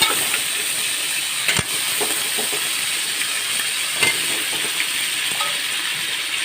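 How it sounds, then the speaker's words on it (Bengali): Cut pumpkin and potato hit hot mustard oil tempered with panch phoron and green chilli, giving a loud, steady hissing sizzle with a few sharp spatters and no talk. "এবার এর মধ্যে আমি দিয়ে দেবো কেটে রাখা কুমড়ো আর আলু"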